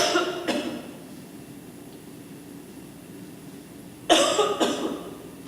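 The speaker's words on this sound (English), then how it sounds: "going to start coughing and then I'm going to be done." Two short bursts of coughing, one near the start and a louder double cough near the end, over a quiet background hum.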